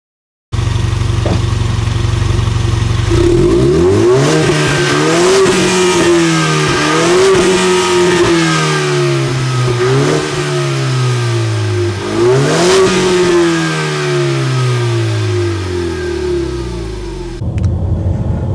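A Ford Mustang engine idles, then revs repeatedly in sharp bursts that climb and fall back, loud and close, before settling into a long descending rev and cutting off near the end.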